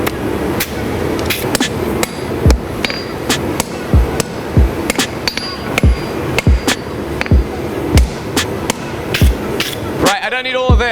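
Hammer blows on hot steel while forge-welding twist Damascus for a Bowie knife, loud sharp metallic strikes in a steady, slightly uneven rhythm of about one per half second, with a ringing tail at the end.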